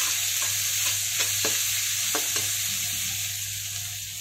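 Chicken egg fried rice stirring and frying in a pan over a high gas flame, with a steady sizzle and several scraping stirs of the spatula, close and alone.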